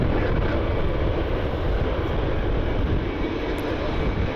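Delta Airlines A320 jet airliner inbound from Atlanta to land at Cleveland Hopkins airport, a steady, loud, broad engine roar that holds throughout without breaks.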